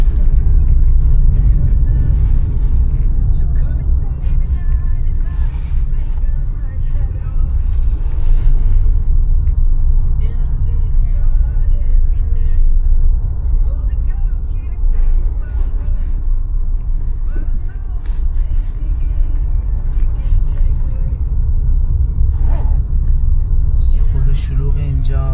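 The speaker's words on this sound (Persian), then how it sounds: "شلوغ اینجا، ترافیک، نمیدونم دلیل ترافیک چیه" Steady low rumble of busy street traffic, with passing cars and engine drone filling the scene continuously and close by.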